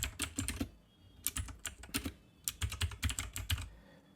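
An email subject line being typed on a computer keyboard, with bursts of crisp, close key clicks and brief pauses between them, quiet and without talk.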